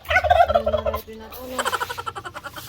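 A turkey hen calls with a few drawn-out notes, then breaks into a rapid, pulsing gobble, loud and close with no other sounds.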